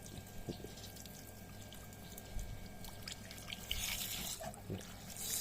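Water trickles and drips steadily through a homemade DIY water filter after a clogged check valve was cleared, with faint splashes and no speech.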